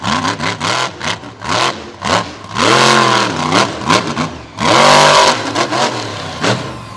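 A monster truck's Ford engine roars through open exhaust pipes in repeated loud, close revving bursts, rising and falling in pitch, with brief sharp blips between longer sustained pulls and no talk.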